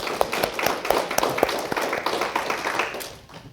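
Dense, crackling applause from a church congregation during a Palm Sunday service, many hands clapping steadily for a few seconds before fading slightly at the end.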